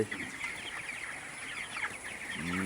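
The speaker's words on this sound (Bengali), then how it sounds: "এই হলো আমাদের ব্রয়লার মুরগির শেড। এখানে ব্রয়লার মুরগি আছে 500 পিস।" About 500 twenty-day-old broiler chickens clucking and chirping together in a shed, a faint continuous murmur of calls with a steady background hum.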